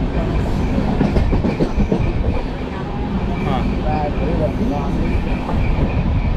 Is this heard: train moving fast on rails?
yes